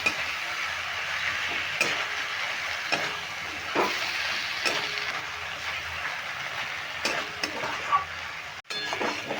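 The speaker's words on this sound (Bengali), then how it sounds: "এবার পোস্তটা দিয়েও আমি কিন্তু তিন থেকে চার মিনিট নেমে নেমে এরকম একটু কষিয়ে নেব" Ivy gourd sautéed with poppy seed paste in a pan, stirred steadily, with a continuous frying sizzle and repeated scraping strokes of the spatula at a regular pace, close and loud.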